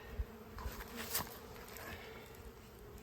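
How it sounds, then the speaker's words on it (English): Faint, steady buzzing of many honeybees at an open hive close by, a continuous droning hum with no voices. "Some fuzzy bees."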